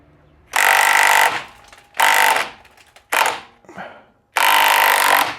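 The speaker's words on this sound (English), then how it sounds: "I'm going to put my impact gun on here and see if we can whiz it out." Impact gun working a 22 mm bolt on a Jaguar XK8 rear damper, firing in loud, harsh bursts of rattling hammering, four main blasts with short gaps between them.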